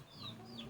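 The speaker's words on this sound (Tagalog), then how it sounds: "O, yan mga manok." Chickens cluck at a house in the mountains, a couple of short rising calls close by over a quiet rural background.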